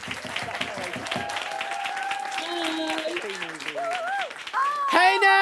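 Studio audience applause on a TV show, a burst of clapping heard under overlapping talk and musical tones.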